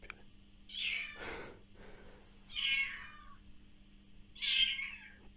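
A small kitten found in a rubbish bin gives three separate high, thin meows spaced about two seconds apart, close and fairly clear over a faint low hum, with a brief rustle between the first two.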